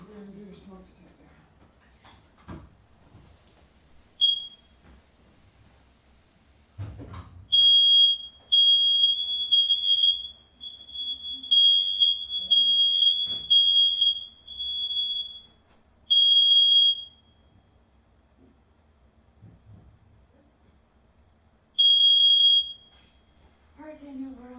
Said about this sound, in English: You're going to do your smoke detector.